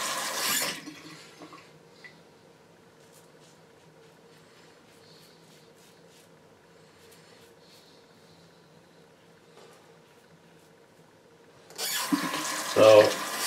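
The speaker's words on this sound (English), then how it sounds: "like to rinse my razor as I go because I don't like a big mess to clean up after I'm done having a relaxing shave" A tap runs briefly to rinse a razor during a wet shave, a close splashing rush at the start and again near the end, with near silence in between.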